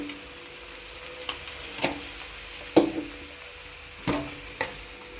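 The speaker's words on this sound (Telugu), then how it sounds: "ఇప్పుడు ఏంటంటే కారం పసుపు వేసుకొని కొంచెం అంత వేపుకుందాం." Chili powder and turmeric fry in a pan for a homemade cauliflower (gobi) curry, giving a soft continuous sizzle punctuated by a few sharp clicks and scrapes of stirring.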